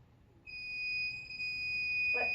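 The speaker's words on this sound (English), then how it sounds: "when you're right in front of it, the buzzer goes off" A homemade alarm system's buzzer sounds alone, a steady, piercing electronic tone switching on and holding unbroken, loud and close, with a brief clatter near the end.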